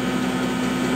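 A C.S. Bell No. 20 hammer mill running at speed, a steady, loud mechanical drone with a strong hum and no variation over a brief moment.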